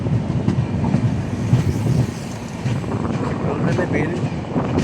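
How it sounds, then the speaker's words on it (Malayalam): The Netravathi Express speeds along the rails near Chiplun station on the Mumbai to Thalassery route, a dense rushing rumble with wind buffeting and faint rhythmic clatter, heard steadily from inside the moving train. "ട്രെയിന് ഭയങ്കര സ്പീഡാക്കുന്നതാണ്."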